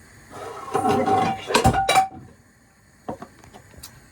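An object drops into a pan at home, giving a few bright metallic clinks and clatters in a short burst, followed by a couple of fainter knocks after a pause.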